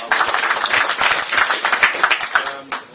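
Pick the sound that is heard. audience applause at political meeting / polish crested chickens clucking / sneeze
audience applause at political meeting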